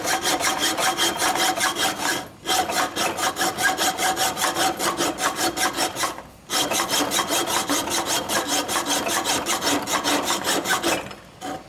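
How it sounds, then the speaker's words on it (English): A dull hacksaw cuts through a thick metal clutch primary part on a 1972 Harley-Davidson Sportster Ironhead, loud rhythmic back-and-forth rasping strokes at a steady pace with two short pauses. "Once again, if you had a sharp hacksaw, this would work better."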